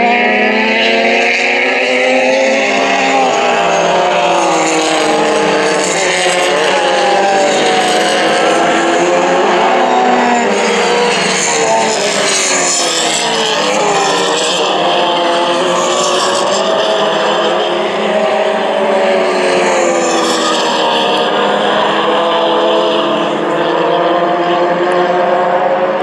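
Race car engines roaring during a CalClub race at Willow Springs, a loud continuous howl with rising and falling pitch as gears change, filling the whole stretch without talk.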